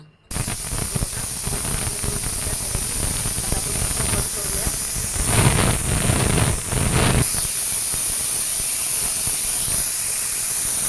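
Pressure cooker cooking moong dal khichdi vents steam in a loud, continuous hiss that runs almost the whole time, swelling in a few bursts midway.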